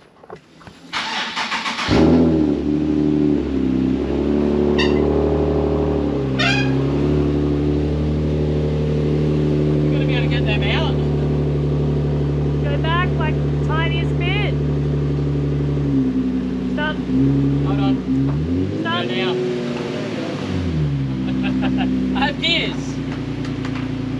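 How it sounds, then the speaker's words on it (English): A car on a workshop hoist starts up and idles loudly, its steady engine drone rising and dipping with a few revs as it is put in gear to drive off, with a person talking over it. "the only thing left to do now is to fire it up and make sure I've got some gears"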